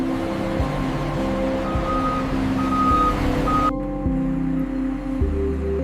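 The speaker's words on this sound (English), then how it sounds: "Armored vehicles arrive to safely carry the nation's currency." Armored cash-transport trucks arrive at a currency depot, with a steady electronic reversing beep repeating over a rumbling diesel engine, loud and close.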